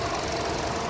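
The engine of a white 2016 Hyundai Accent idles with its hood open, a steady, loud, close mechanical hum with a fine ticking texture running without pause.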